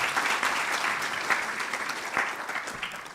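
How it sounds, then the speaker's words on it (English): An audience applauds steadily at a Norway–Kenya forum on multilateralism, peace and security, a dense, even wash of many hands clapping that holds for about three seconds with no talk over it. "Give yourselves another round of applause"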